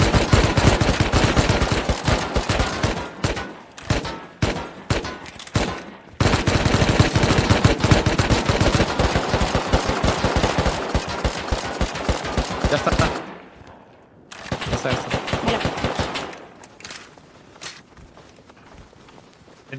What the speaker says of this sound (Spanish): ¿Disparáis?